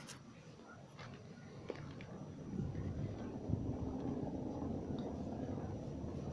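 A tractor without front-wheel drive runs steadily while driving, its engine a low continuous rumble through the whole stretch with wind buffeting the microphone.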